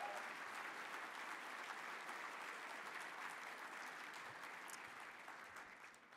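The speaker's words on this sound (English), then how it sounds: "give a round of applause to the food and beverage staff at this hotel" Hotel banquet audience at a brunch event applauding, a dense, sustained round of clapping heard from within the room that gradually fades toward the end.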